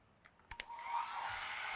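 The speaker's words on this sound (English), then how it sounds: "can you stop that hairdryer?" A hair dryer switches on after a few sharp clicks and then blows as a steady, loud, broadband whoosh that holds to the end.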